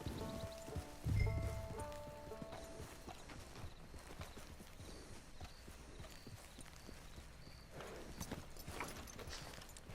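Horse hooves clip-clop steadily in Red Dead Redemption 2 Online, a moderate, continuous rhythm near at hand, with a brief louder thump early on and a faint rain-like hiss in the background.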